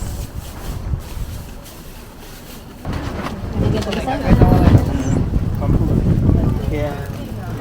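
Strong outdoor wind gusts buffet the microphone on a chilly autumn day tour near Mount Fuji in Japan, a constant roaring rush that swells louder midway, with a voice talking through it.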